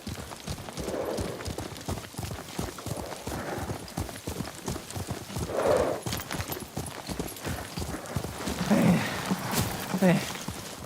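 Steady clip-clop of horse hooves on a ridden mount in Ghost of Tsushima, a continuous galloping rhythm throughout, with occasional snorts or whinnies and voices talking over it.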